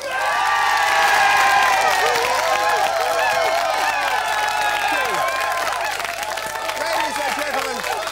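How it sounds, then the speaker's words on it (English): A television studio audience breaks into loud, sustained applause and cheering, with whoops and shouts mixing into a dense crowd roar that holds steady for several seconds. "throw the beer cans in the air and applaud, like the audience will do now"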